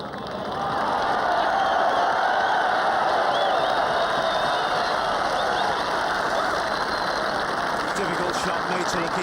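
Irish golf crowd at the 2006 Ryder Cup cheering and applauding Harrington's third shot at the 10th hole: a broad, sustained roar of cheers, whoops and clapping that swells quickly and holds steady, with a few voices audible in the mix.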